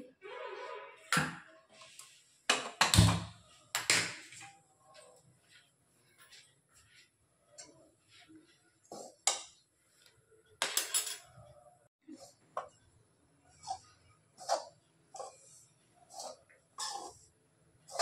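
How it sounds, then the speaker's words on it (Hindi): Spoon stirring and scraping a besan (gram flour) mixture in a pan while it roasts over a gas flame for besan laddoos, giving intermittent clinks and scrapes with quiet gaps between strokes. "इसको लगातार चलाते हुए हमें सेंकना है"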